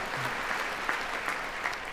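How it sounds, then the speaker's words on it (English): A chamber audience applauds while standing at a State of the Union address. The clapping is continuous and moderately distant, with faint crowd murmur beneath it. "Look at all those people standing up clapping."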